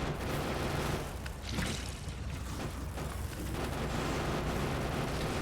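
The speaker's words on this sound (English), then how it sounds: "Nades, chuck them nades." Grenade explosions in a video game rumble as a dense, continuous wash of booming blasts and crackling bursts, loud and unbroken throughout with no pause between detonations.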